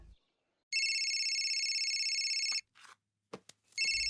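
A telephone rings in long, steady electronic bursts, with a pause and a few brief clicks before the ringing starts again; no one speaks.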